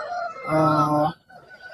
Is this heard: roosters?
yes